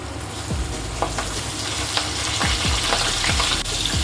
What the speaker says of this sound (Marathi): तेल गरम झालेले आहे त्यामध्ये हिंग मिरची आणि कढीपत्ता घालून घेते